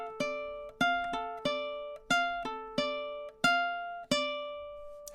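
A ukulele picks out a melody using only chord tones, about ten clear plucked notes in an unhurried rhythm, each ringing and decaying before the next, played alone with no talking.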